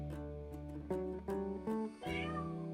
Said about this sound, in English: There's my cat. She's hungry.